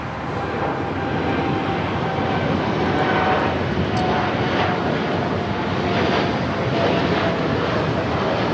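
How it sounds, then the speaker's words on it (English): An American Airlines Boeing 787 Dreamliner takes off from runway 25 right at LAX, a loud, sustained jet engine roar rising slightly and holding steady, with a rumbling low end and no talk over it. "This American Dreamliner is taking off to Chicago O'Hare, flight 2689"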